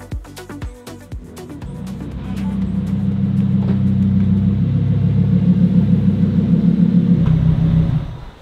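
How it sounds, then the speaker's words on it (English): Lamborghini Huracán STO engine builds from a few revs into a loud, deep, sustained rumble that holds steady close by, then drops away near the end. "Nice car, Lamborghini Huracan STO."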